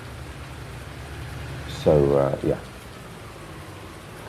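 Steady rain falls in Farming Simulator 19 on PS5, a continuous even hiss running throughout while a voice briefly speaks midway.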